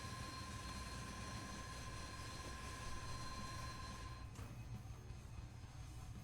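Steady drone of aircraft engines running in War Thunder during a formation start-up, a continuous loud hum with sustained tonal whine that dips slightly near the end, no talk over it.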